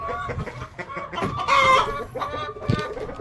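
Dekalb Brown breeder hens clucking in a poultry house, a busy overlapping flock of repeated clucks and calls, fairly close, with one louder squawking call rising in the middle and no talk.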